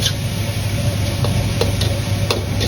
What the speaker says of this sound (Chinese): 多翻动几下，把调料化开后倒入切好的韭菜翻炒